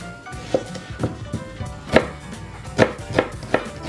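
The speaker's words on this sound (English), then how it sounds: "I'm just going to cut the onion nice and small" A knife finely chopping a red onion on a board, a run of irregular close taps and thuds, fairly loud, with no voices.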